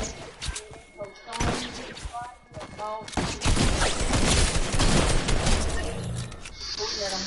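Rapid gunfire from an online multiplayer shooter game, bursts of shots crackling over loud game effects and thuds, with players talking over the action.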